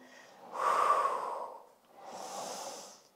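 A person breathes in and out heavily during an intermediate Pilates reformer workout, two long audible breaths, the first a strong snorting exhale and the second softer, close to the mic with no talking.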